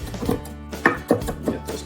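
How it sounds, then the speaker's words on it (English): Knife chopping fresh parsley on a cutting board for gremolata, a run of quick, fairly close taps in an uneven rhythm, a few strokes landing harder than the rest. "So the parsley, you're just gonna chop up nicely."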